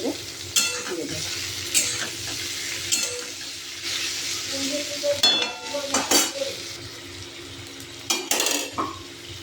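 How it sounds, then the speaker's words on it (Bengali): Potatoes frying in a pan while being stirred, bursts of loud sizzle and scraping spoon strokes recurring every second or so over a continuous crackle, close up. "আলুগুলো দিয়ে ভালো করে আমি নাড়াচাড়া করে ভাজতে থাকবো"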